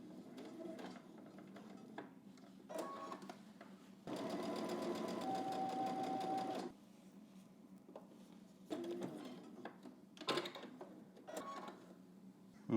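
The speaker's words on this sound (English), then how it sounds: "go ahead and do your top stitching" A sewing machine runs top stitching on a pair of baggy pants, one steady burst of about two and a half seconds amid quieter handling noises and brief clicks of fabric being adjusted.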